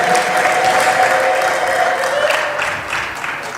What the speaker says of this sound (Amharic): ከፍ ያለ እልልታና ጭብጨባ ለእግዚአብሔር ለአምላካችን ይሁን።